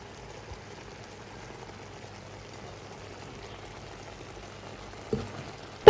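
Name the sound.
tomato and prawns simmering and frying in pan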